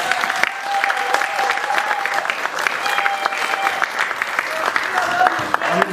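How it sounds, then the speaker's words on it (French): A concert audience applauds steadily, a dense wash of many hands clapping that stays loud throughout, with a few voices and cheers mixed in. "demander les derniers applaudissements pour Philippe Claus."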